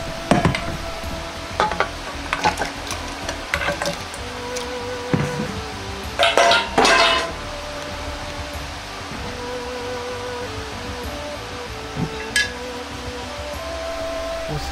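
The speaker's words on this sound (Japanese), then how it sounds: "鍋に野菜だしと鶏肉を入れます" Vegetable broth and chicken going into a pot, with scattered clunks and a louder splashy burst midway over a faint background hiss.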